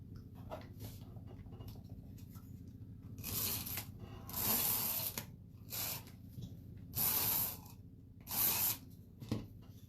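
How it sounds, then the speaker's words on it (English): Tape runner adhesive is rolled onto watercolor paper for a card, making several short, rasping, tearing bursts at irregular intervals, close and fairly quiet, with near silence between them. "So all we're going to do now is assemble this with some tape runner adhesive."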